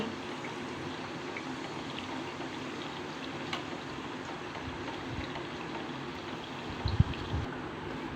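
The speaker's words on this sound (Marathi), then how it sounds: "बघा आता याच्या बुडबुड्या कमी झालेल्या आहेत म्हणजे आपल्या ह्या पुऱ्या छान अशा तळल्या गेलेल्या आहेत" Puris deep-fry in a pan of hot oil, giving a steady, soft bubbling hiss throughout, with a few brief louder crackles and knocks near the end.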